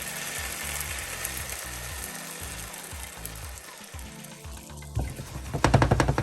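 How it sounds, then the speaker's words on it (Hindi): Gluten-free paratha batter sizzles as it is poured into a hot frying pan, a steady crackling hiss that swells louder and busier toward the end. "अब हम इसको फ्राई पैन में डालने लगे"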